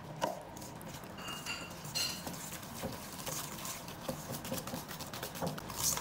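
A utensil stirs powdered sugar into a no-bake cheesecake filling in a bowl, producing quiet, steady scraping and light clinking against the sides.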